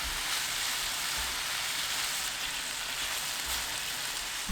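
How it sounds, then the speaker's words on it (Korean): Pork stir-fries in a hot pan over high heat with a steady, dense sizzle, close and continuous without talk. "달군 팬에 돼지고기 넣고 센 불로 2분 볶습니다."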